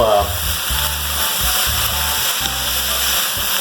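Vegetables and chicken filling for spring rolls fry in a hot pan, a steady broadband sizzle running throughout with a low voice speaking underneath.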